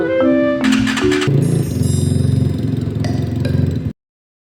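A 250cc motorcycle with a modified exhaust idles with a rapid, rhythmic putter after some brief tonal sounds at the start, then cuts off abruptly into silence.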